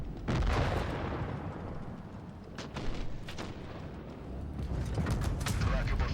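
Tank cannon shots and battle noise from the WoT Blitz tank game, several sharp bursts over a dense, continuous rumble of gunfire, loud and close throughout.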